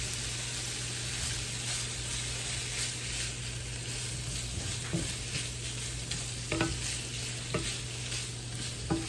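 Food fries in a pan on a home stovetop with a constant close crackle, low hum underneath and a few scattered clicks and scrapes toward the end.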